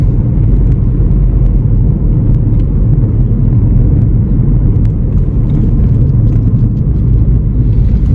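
A Ford Fiesta 1.5 diesel, seventh generation, revved in neutral with the pedal to the floor, producing a loud, constant low engine rumble that holds steady throughout without a clear rise in pitch.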